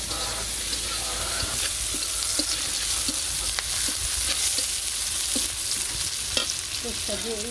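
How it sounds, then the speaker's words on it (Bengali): Ginger and vegetables sizzling in hot oil in a pan in a village kitchen, with a constant frying crackle and repeated scraping taps of a spatula stirring, close and loud throughout. "আদা দিয়েছে আমি একটু ভেজে দিই"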